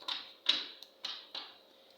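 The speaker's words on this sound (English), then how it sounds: "Let's give it one more shuffle." A deck of tarot cards being shuffled, with four or five crisp riffling bursts that snap and fade in quick succession, close up and fairly quiet.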